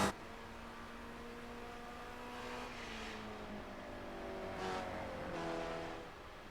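A Ford race car in a sim racing game pulls out of a corner on the Glen circuit, its engine climbing in a steady tonal whine with gear changes and revs rising and falling throughout, loud and close.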